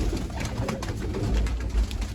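Pigeons in a coop coo in low, soft repeated murmurs while being moved, steady and close against a rumbling background.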